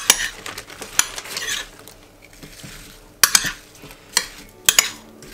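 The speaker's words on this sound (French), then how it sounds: "Et du coup je mélange avec mes pommes, mon sucre, un peu d'eau et la cannelle." Apples, sugar, a little water and cinnamon stirred with a large spoon in a baking dish for a light oat crumble, with sharp clinks and scraping strokes in bursts separated by quieter pauses.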